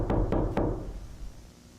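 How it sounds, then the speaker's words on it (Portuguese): A wolf knocks on a straw house door in a three little pigs analog horror video game: three quick, close, heavy knocks followed by a reverberant fade. "O lobo chega e ele bate na porta."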